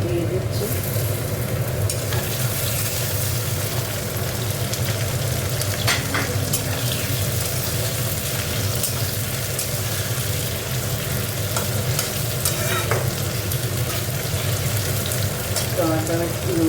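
Tomato and potato fry in a hot pan with a dense, continuous sizzle and crackle, stirring scrapes and occasional spatula clinks running steadily at close range for the whole stretch.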